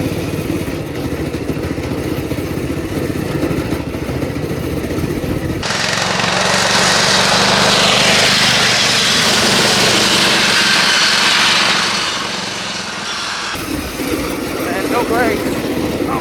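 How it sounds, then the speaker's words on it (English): A modified cheap racing lawn mower with a welded rear end, run at full throttle while sliding on spinning tyres, its small engine roaring loud and close, rising to a sustained high-pitched wail mid-run before settling back down. "a vibe just driving the sketchy lawnmower"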